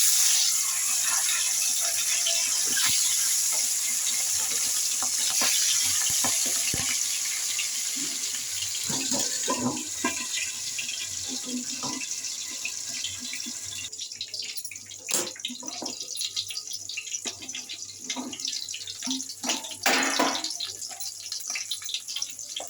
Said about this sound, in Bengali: ডিমগুলো এবার তেলে ছেড়ে দেবো।